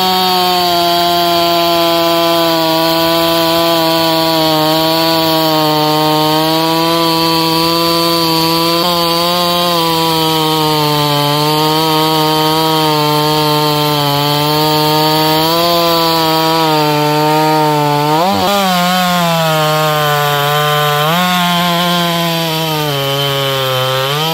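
Jonsered CE 670 chainsaw cutting firewood, a loud, close, continuous high-revving engine drone that bogs down under load and recovers, running alone without talk.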